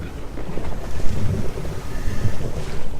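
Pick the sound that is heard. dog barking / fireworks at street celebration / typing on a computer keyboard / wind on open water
wind on open water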